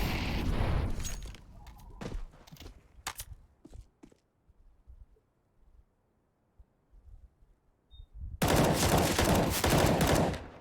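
Bursts of rapid video game gunfire crackle in a team shooter match, loud clusters at the start, a few scattered single shots, a quiet stretch, then a dense sustained volley at the end.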